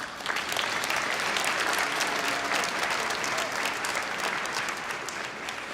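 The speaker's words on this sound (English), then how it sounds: "let's give each other a round of applause" A crowd at an awards ceremony gives a sustained round of applause, dense and steady from start to finish with no speech over it.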